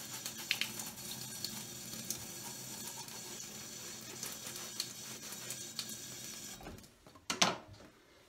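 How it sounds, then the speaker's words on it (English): Wet toothbrush scrubbing the welts of secondhand brogue shoes, a steady close scratchy brushing with faint water, ending in a few louder knocks and handling noises. "A little bit of water on the toothbrush just to get inside the welts."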